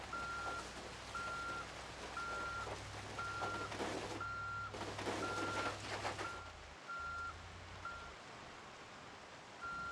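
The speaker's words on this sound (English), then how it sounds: "Truck started right up, which is fantastic." A truck in the Project Zomboid video game runs with a low engine rumble under a steady, evenly spaced reversing beep that repeats for several seconds. The engine drone briefly cuts out near the end.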